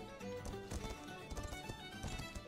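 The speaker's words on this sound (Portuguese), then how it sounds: "Cavalo." Galloping horse hooves in the medieval combat video game Mordhau, a fast rhythmic clip-clop close by amid battle noise and music.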